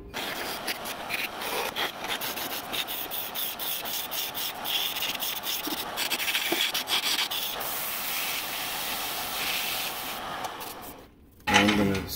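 Wood shavings pressed and rubbed hard against a spinning turned wood surface on a lathe, making a steady close hissing friction that holds for several seconds before cutting off briefly near the end.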